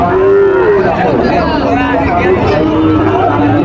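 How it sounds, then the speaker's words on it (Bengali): A white Sahiwal cow moos in long, drawn-out calls over steady crowd chatter and background noise at Panchbibi cattle market, loud and close. "অনেক সুন্দর একটি গরু দর্শক"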